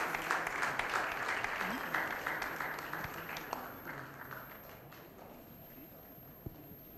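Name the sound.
audience clapping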